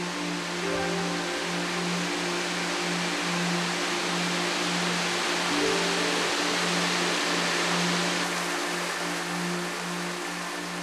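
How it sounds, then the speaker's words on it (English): Water gushing from the cliff at Shiraito no Taki Falls, a spring-fed waterfall with a huge daily flow, giving a constant broadband roar with a low steady hum beneath it. "Water gushing forth relentlessly from the cliff."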